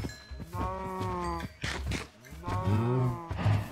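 Several Minecraft cows moo close by, long low drawn-out calls overlapping in two bursts with a brief gap between them.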